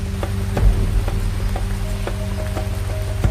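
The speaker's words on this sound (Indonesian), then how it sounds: "Dan benar saja, hujan mulai turun." Rain falls through dense Sulawesi jungle forest: a steady, close wash of hiss with scattered sharp drop taps landing irregularly throughout, with no voices.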